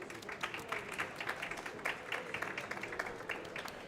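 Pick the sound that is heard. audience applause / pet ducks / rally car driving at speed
audience applause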